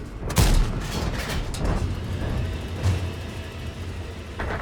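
A heavy tank cannon blast in a video game booms early, followed by further deep thuds and a steady engine rumble underneath, with no talking.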